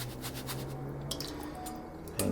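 Wort for homebrewed Coopers Galaxy Ale is shaken out of a pan, giving a soft, continuous dribble and drip of liquid close by, with a slightly louder splash right at the end.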